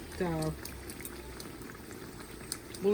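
Indian taco fry bread frying in oil, a constant low bubbling sizzle heard close up, while a person talks briefly at the start and end.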